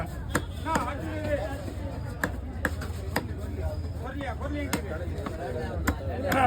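A knife chops fish at the busy Kasimedu fish market, landing about a dozen sharp, irregular thwacks on a board while voices chatter steadily underneath.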